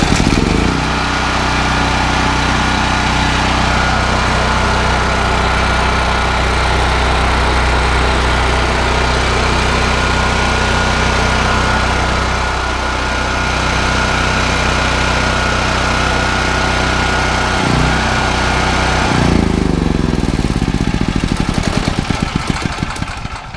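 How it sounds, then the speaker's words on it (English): A Firman tri-fuel hybrid generator rated at 9400 watts peak runs on gasoline, its engine droning loud and steady up close before the sound shifts and winds down near the end. "I'm going to run it just off of regular gasoline"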